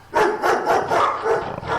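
A dog barks repeatedly at close range, six or seven loud, evenly spaced barks with growly texture, no talking over them.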